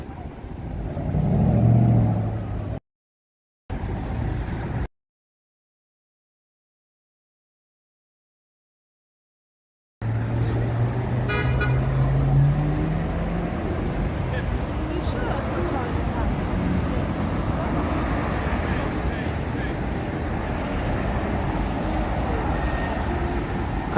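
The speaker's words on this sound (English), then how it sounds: "there's still traffic. Light, but still cars." Light car traffic on Canal Street in New York, with passing vehicles rumbling steadily nearby under pedestrian chatter, broken by a stretch of silence before the road noise returns.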